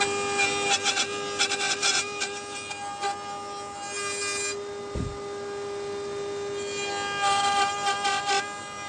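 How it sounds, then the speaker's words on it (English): A router on a router bench cuts notches in a wooden shelf-pin jig, sounding as a loud, steady whine with bursts of rough cutting noise and a sharp knock midway. "Over at the router bench, I'm cutting the notches that make it easier to locate the jig on the ruler"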